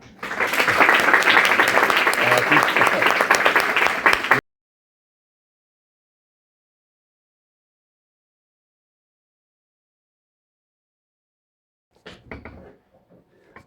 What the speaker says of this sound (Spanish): Muchas gracias y un aplauso para Antonio.